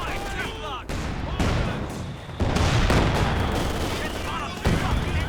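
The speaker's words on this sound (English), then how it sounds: "And the heavy mortar barrage coming down now as well." A heavy mortar barrage rains down in a Company of Heroes 2 battle, a dense, continuous roar of blasts and gunfire with repeated sharp impacts layered over each other, loud and unbroken throughout.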